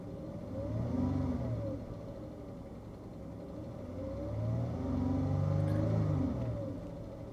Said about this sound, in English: let's rev the engine just a little bit